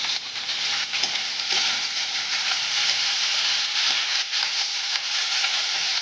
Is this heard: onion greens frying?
yes